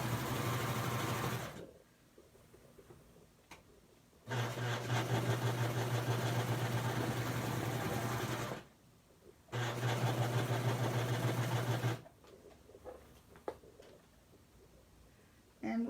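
A sewing machine runs in three long stitching bursts along the side seam of a T-shirt dress, its steady motor whir stopping and restarting with brief quiet pauses between runs.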